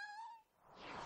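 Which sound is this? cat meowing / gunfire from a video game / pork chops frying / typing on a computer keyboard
cat meowing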